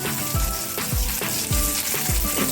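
Garlic sizzles and fries in chilli-infused oil in a pan, a loud continuous crackle broken by repeated stirring scrapes at a steady rhythm, with no voices.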